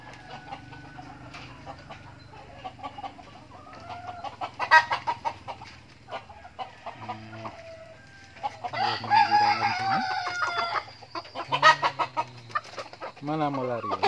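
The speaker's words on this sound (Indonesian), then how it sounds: "Inilah ayam-ayam yang diternakkan oleh sahabat saya." Free-range village chickens on a poultry farm cluck in scattered bursts while a rooster crows loudly a few times nearby, with faint voices in the background.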